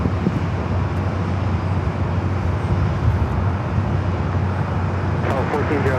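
A KLM Boeing 787 Dreamliner pushes back from the west gates at LAX, its engines and ground equipment giving a steady low rumble and hum, fairly close and continuous throughout.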